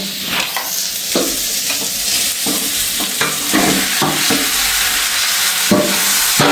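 Chicken pieces fry loudly in a spiced pan for a Jaffna-style chicken curry, with a steady sizzle broken by repeated scraping, clanking stirs from a spoon.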